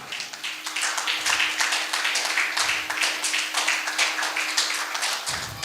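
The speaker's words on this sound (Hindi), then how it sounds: "डॉक्टर उन्हें सम्मानित कर रहे हैं जोरदार तालियों के गड़गड़ाहट के बीच" Sustained, dense applause from an audience at a Hindi poetry gathering (kavi sammelan) at a book fair, honouring a guest; loud, continuous clapping with a steady hum beneath and no talk.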